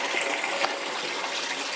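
A Kegland Bucket Blaster driving a Brewtools CIP ball that sprays water inside a keg, a loud, constant rushing hiss of spraying and splashing water, close up and unbroken.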